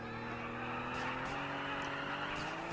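A Lamborghini engine in the video game GTA IV: a steady, droning motor hum with a fairly constant pitch, held near and loud throughout, with faint brief whooshes over it.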